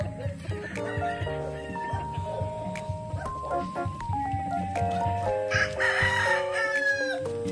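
Roosters crow in long drawn-out calls over a constant chorus of clucking hens, a dense and noisy poultry yard nearby at a farm in Pangasinan, Philippines.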